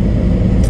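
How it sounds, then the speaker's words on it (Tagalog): A Ford Raptor pickup truck rumbles past close by, a brief, loud, low engine roar filling the moment without any talk. "Ford Raptor."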